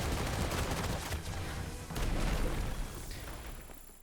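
Rock projectile magic in Forspoken firing a steady, gun-like stream of rocks, a loud continuous rattling barrage with heavy low impacts that eases slightly toward the end.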